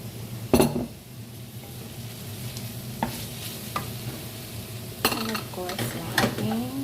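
Pancit canton noodles with oyster sauce stir-fried in a pan, a steady close sizzle under repeated clattering scrapes and tosses of a spatula against the pan.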